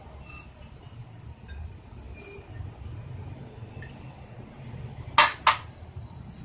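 Fried cashews go into a pot of Hyderabadi mutton biryani. A mostly quiet stretch ends in two sharp, close metallic clinks of a spoon against the pot.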